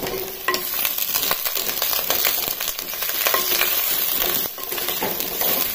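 Brinjal and onions fry in hot oil with a steady, dense sizzle, broken up by scattered clinks and scrapes of a spoon stirring in the pan.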